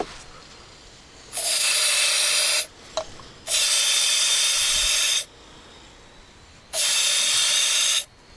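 An aerosol can of carburetor cleaner sprays in three loud, close hissing bursts of about one to two seconds each, separated by short silent pauses, during work on a Land Rover Discovery 2 front axle.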